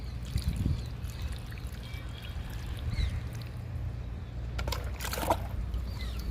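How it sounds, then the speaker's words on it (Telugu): Water poured slowly into a terrace pot holding a freshly repotted curry leaf plant, a soft trickling and splashing that swells briefly near the end, with no one speaking. "ఇప్పుడు కరివేపాకు మొక్కకి వాటర్ ఇచ్చేద్దాము"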